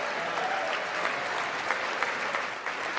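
A crowd applauds in a steady, dense wash of clapping that holds for the whole stretch, with a few louder individual claps standing out and only a faint trace of voice.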